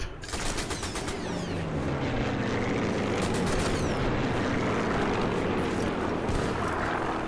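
Video game combat with grenade explosions and gunfire, a dense continuous roar of blasts and rapid shots filling the scene at steady loudness with no speech.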